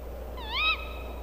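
A single short chirping bird call in the Harry Potter and the Deathly Hallows Part 1 video game, a bright rising-and-falling whistle heard once over a quiet, low background hum.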